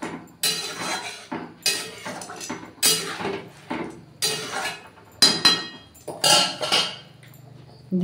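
A metal lid is set onto a pot of simmering duck egg curry with boiled eggs and pointed gourd, giving a series of sharp clanks and clinks spread across several seconds, close and fairly loud, with no talking.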